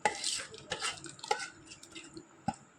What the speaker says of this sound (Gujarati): આ રીતે ને આપણે હલાવતા જશું એટલે એકદમ ઘટ અને પરફેક્ટ એવું આપણું છે તે બની જશે મિશ્રણ